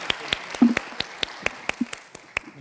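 A light, scattered round of handclaps, about a dozen distinct claps spread over a few seconds, welcomes a woman guest at a round-table panel. Faint murmuring sits underneath.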